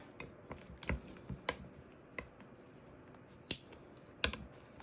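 Scissors snip through a zipper on a vinyl bag in a series of sharp, close clicks spaced irregularly, with a brief cluster near the end, over a quiet background.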